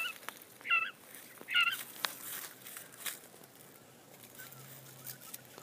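Japanese quail calling in an outdoor colony pen: two short, faint chirping calls near the start, with a few soft clicks and rustles over a quiet open-air background.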